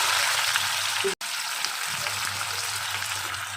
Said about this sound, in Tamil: கடுகு நல்லா புரிஞ்சதுக்கப்புறம் தான் அடுத்தடுத்து பொருள்களை சேர்க்கணும் இந்த கடுகு பொரிஞ்சதும் நான் கருவாடை ஆட் பண்ணிடுவேன்